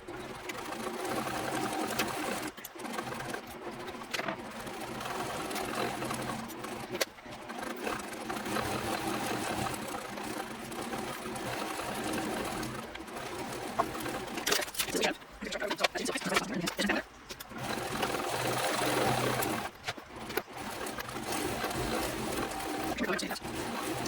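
A sewing machine stitching purse pieces together to baste them, running in steady bursts with brief pauses and occasional handling noise.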